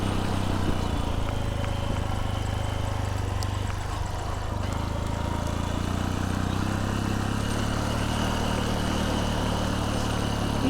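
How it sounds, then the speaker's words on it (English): A motorbike engine braking on a long downhill in warm Lombok, a steady, continuous low drone that holds close and loud throughout without pauses. "Want to engine brake all the way down so the brakes don't get too hot"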